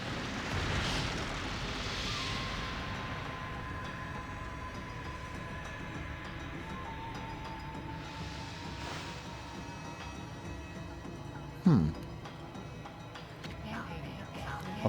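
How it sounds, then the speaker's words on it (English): A boss in Ōkami HD unleashes fire breath, heard as loud roaring, whooshing bursts over a rumbling game soundtrack, with a sharp hit near the end. "Fire breath."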